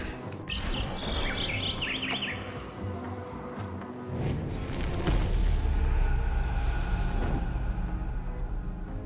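Bird calls in the video game Prince of Persia: The Lost Crown, with a few high chirping phrases early on over a dense bed of game ambience and low rumbling, moderately faint and with no talk.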